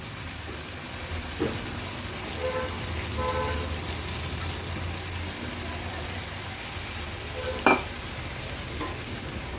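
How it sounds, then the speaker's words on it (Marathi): Fish and vegetables (drumsticks, pumpkin, brinjal, raw mango, tomato) frying in masala for an Agri-Koli mixed fish kanji, stirred steadily with a spoon, a soft continuous sizzle with occasional sharp scrapes and clinks against the pan. "भाज्या देखील मच्छी सोबतच व्यवस्थित मिक्स करून घ्यायचे आहे"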